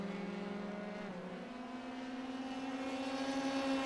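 Race cars on a track, with engines droning in steady tones that shift in pitch as one car stays on another's back bumper, moderately loud and without talk.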